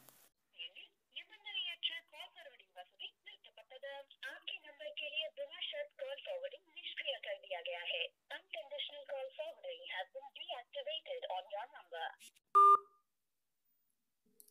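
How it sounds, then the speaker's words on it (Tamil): Spoken Tamil instructions run for most of the clip; near the end a short, clear telephone dialing beep sounds, as when calling *402 from a Jio phone. "*402 அப்படின்ற நம்பருக்கு அதே ஜியோ நம்பர்லேருந்து ஃபோன் பண்ணுங்கள்."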